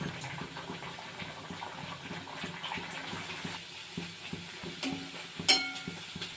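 Chole bhature dough frying in hot refined oil in a kadai, a continuous bubbling sizzle with soft periodic stirring knocks and a brief sharp clink near the end.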